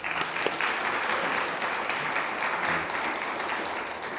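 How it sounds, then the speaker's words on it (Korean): A church congregation at a Korean Presbyterian church in Mexico claps together in a steady, full round of applause that fills the room for a few seconds. "다시 한번 하나님께 박수 올릴까요?"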